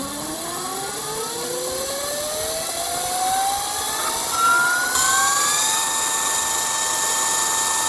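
An electric bike motor under throttle whines upward in pitch as it spins up, the tone rising smoothly and then holding at a high steady whir.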